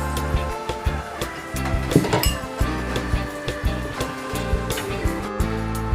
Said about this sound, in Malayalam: ഇനി ക്യാപ്സിക്കം ഉള്ളിയെല്ലാം കൂടി നല്ലോണം മിക്സ് ചെയ്ത് കൊടുക്കുക.